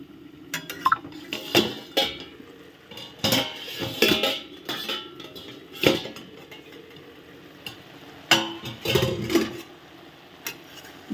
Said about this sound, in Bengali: ঢাকনাটা খুলে এখন দেখা যাক।